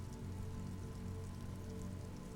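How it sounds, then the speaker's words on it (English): Quiet, steady rain drips and patters off Eternite-covered roofs along an urban coastline in Martinaise in the video game Disco Elysium, a soft continuous wash with no voices. "rain dripping off Eternite-covered roofs"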